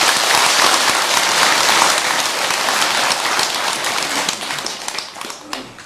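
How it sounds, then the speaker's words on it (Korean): A Buddhist temple congregation claps loudly for a senior monk during a dharma talk, a dense, loud burst of applause that holds strongly at first and then gradually thins and tapers off toward the end. "우리 경성 큰 스님께 박수를 한번 크게"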